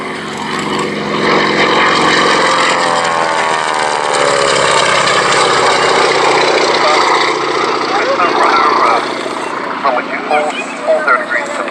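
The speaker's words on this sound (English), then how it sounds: "Coming in for its last pass now, the Spartan 7W Executive." A Spartan 7W Executive propeller aeroplane makes a display pass at an airshow, its engine drone rising and sweeping past, loud and steady, while a commentator talks over it.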